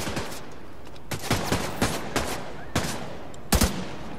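Gunfire in the video game Tom Clancy's The Division 2: scattered bursts of shots, some single, some in quick clusters, fairly loud, with a sharp heavier volley near the end.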